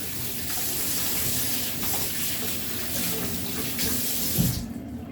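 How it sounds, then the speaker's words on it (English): Fairly hot tap water runs steadily into a sink, rinsing sea salt from a cast iron pan in an apartment kitchen, a close continuous gush that cuts off near the end. "I'm going to take some fairly hot water and get rid of the rest of my sea salt"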